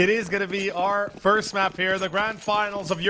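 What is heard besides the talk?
No distinct noise like a dog, phone or traffic.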